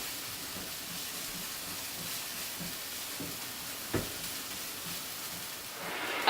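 Chopped garlic stirred and sizzling in a pan, a steady soft hiss with occasional scrapes and a louder crackle at the end.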